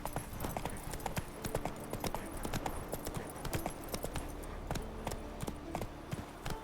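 The horse Roach galloping in The Witcher 3, a fast rhythmic clip-clop of hooves, steady and fairly close, with some faint background ambience.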